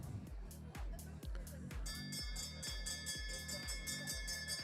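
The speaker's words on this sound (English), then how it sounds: "bell's about to ring" A bell rings repeatedly with rapid metallic strokes, marking the final laps of a women's track cycling race at the Dick Lane Velodrome season finale, sounding over a busy, rhythmic background.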